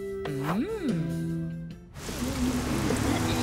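Steady hiss of rain pouring indoors through an open window, starting abruptly after a brief sliding musical tone and continuing as dense, even patter close by in a cartoon setting.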